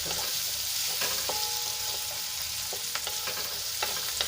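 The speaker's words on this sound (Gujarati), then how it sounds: "અહીંયા સૌપ્રથમ આપણે પહેલાં ડુંગળીને સાંતળી લેવાની છે" Onions sautéing in oil in a pan for homemade stovetop pizza, a soft steady sizzle with occasional scrapes and taps of a spoon, fairly quiet and close, no voices.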